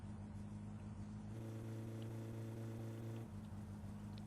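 Worn car engine in My Summer Car idling then held at a steady moderate rev, a constant low droning hum that rises slightly in pitch and stays even throughout, close and alone.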